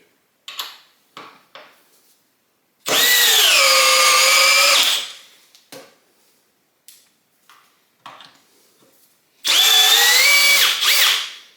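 A Milwaukee compact drill on a 2 amp-hour battery at speed 2 drives a 4.5 inch wood screw, two loud sustained whirring runs separated by clicks and handling knocks.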